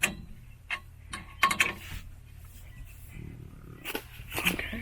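A short wrench tightening a bolt during a trailer hydraulic disc brake conversion, heard as sparse metallic clicks and ratcheting taps with scraping, close and fairly quiet over a low background hum.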